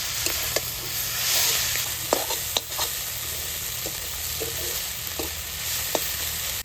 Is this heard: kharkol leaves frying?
yes